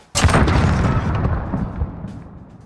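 A grenade blows up in a first-person shooter match, one sharp, loud boom that rolls into a long rumbling decay and fades out over a couple of seconds.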